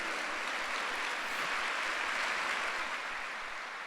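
A Sunday church congregation applauds, a steady, even roar of many hands clapping that continues without pause and eases slightly at the close.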